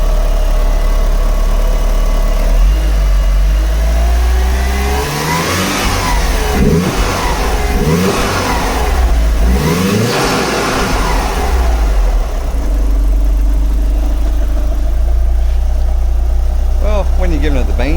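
A Mitsubishi Lancer Evolution GT-A engine fitted with a Monster Sport turbo intake revs hard several times, rising and falling in pitch with a whooshing intake note, a voice talking faintly over it.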